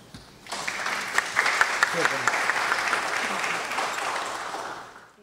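A lecture audience gives warm applause to welcome a speaker on university compliance law, a dense wash of clapping that swells quickly, holds steady with a few voices inside it, then fades.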